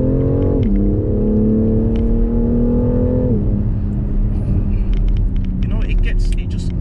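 The twin-turbo engine of a 510 bhp BMW X3 M Competition SUV revs hard and climbs through gear changes, pulling steadily louder while people talk over the drone.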